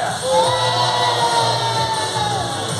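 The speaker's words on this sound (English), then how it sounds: "I said give me a cheer" An audience at a live ZOOperheroes show at Chessington World of Adventures shouts and cheers together, a sustained crowd roar of whoops and yells heard from within the crowd.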